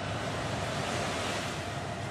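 Towering storm waves whipped up by Cyclone Vayu pound the Konkan coastline, a loud, continuous roar of surf and wind that fills the whole clip without any voices.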